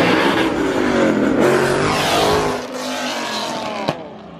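A Ford Mustang Boss 302 accelerates hard down a street at a Texas street-racing event, its loud engine rising in pitch as it passes close by, then fading into the distance.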